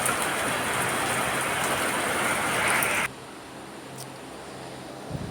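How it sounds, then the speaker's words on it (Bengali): Heavy rain pours down steadily as a dense, loud hiss for about three seconds, then drops abruptly to a quieter, more muffled patter for the rest. "খুব জোরে জোরে বৃষ্টি পড়ছে"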